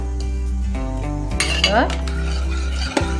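A spoon stirs instant sambar in a metal pot, a few clinks and scrapes against the pot over a steady low hum, close by with no talk.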